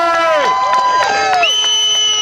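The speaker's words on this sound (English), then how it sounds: "Big round of applause for V." A crowd at an August 2020 Freedom Rally cheers and applauds loudly, with sustained whoops and shouts ringing over steady clapping for the whole stretch.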